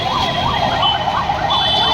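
An ambulance siren wails in rising and falling sweeps through heavy night traffic near the Khairatabad Ganesh festival, loud and close over a dense rumble of vehicles.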